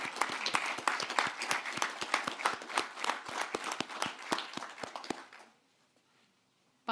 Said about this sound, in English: How about another round of applause for this beautiful family?